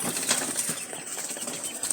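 Pigeons flapping their wings nearby in a coop of breeding female birds, a continuous fluttering rustle with soft irregular wingbeats and a faint hiss throughout.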